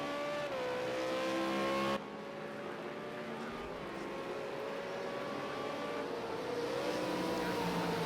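A V8 Supercar engine in a racing video game holds a steady, loud drone with shifting pitch as it sweeps onto the back straight at Donington Park National, with a brief gear-change dip near the two-second mark.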